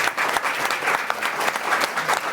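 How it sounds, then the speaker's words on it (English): An audience bursts into dense, lively applause for the cast of Deadpool, loud clapping with crisp individual claps that runs without a break. "everyone give them a round of applause."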